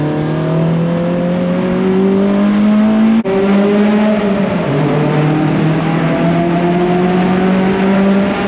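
A car with a Honda B-series manual transmission pulls away after the clutch is let out, its engine droning steadily and rising in pitch, with a brief break near the middle as a gear changes, then pulling on strongly and loudly.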